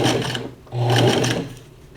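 A sewing machine runs in two bursts of stitching, attaching a band of fabric to a finger splint, with a steady mechanical whir that pauses briefly, then returns louder before trailing off.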